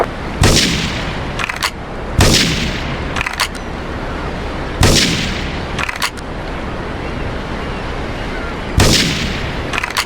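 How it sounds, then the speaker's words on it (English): Gunfire and blasts from Grand Theft Auto III near Portland Harbor: four loud, sharp reports spaced a few seconds apart, each followed by a quick burst of smaller cracks, over a constant low rumble. "Investigate reports of gunfire and explosions."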